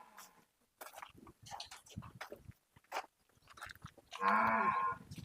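A dairy buffalo on a farm near Hyderabad lets out one loud, drawn-out moo near the end, after scattered chewing and shuffling sounds with a bit of talk nearby.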